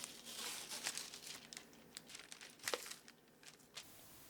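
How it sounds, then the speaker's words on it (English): Faint, close crinkling and tearing as the membrane is peeled off the back of raw pork ribs, in short irregular rips and crackles with no talk. "You want to peel the membrane off the back of the ribs"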